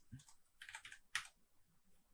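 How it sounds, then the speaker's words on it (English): Keys clatter on a computer keyboard as code is typed into RStudio, with short bursts of close, soft clicks and a sharper tap near the end, otherwise quiet. "We can do this by typing the code"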